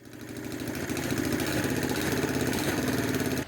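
A Polaris ATV engine freshly rebuilt with a new cylinder runs steadily after starting, a close, loud, rhythmic mid-pitched chug that builds slightly and then cuts off abruptly.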